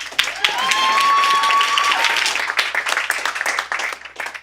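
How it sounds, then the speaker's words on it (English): An audience at a TEDx event applauds in a dense, sustained wash of clapping that swells and then thins out into scattered claps, with a faint whistle rising early on. "Now you applaud."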